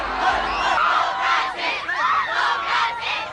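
A huge papal crowd in the Philippines waits for Pope Francis, giving loud, sustained cheering and shouting from thousands of voices. The roar swells and falls in repeated waves.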